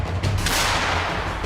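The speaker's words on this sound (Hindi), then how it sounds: "दोनों ओर से फौज धमाकों पर धमाके कर" War footage from the fighting between Russia and Ukraine carries a single loud, booming blast or gunfire burst that rolls out into a dense, roaring rumble.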